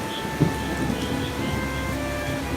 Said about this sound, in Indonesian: Rasanya hujan tidak pernah berhenti sampai sekarang.